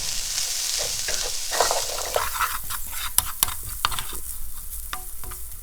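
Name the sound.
garam masala spices sizzling and toasting in pan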